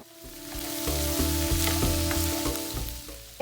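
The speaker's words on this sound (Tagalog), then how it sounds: "painitin lang natin siya ng at least 1 minute para maluto lang yung ating onion," Half an onion frying in a heated pan for pork ear sisig, a steady sizzle with faint scraping, close and continuous with no talk.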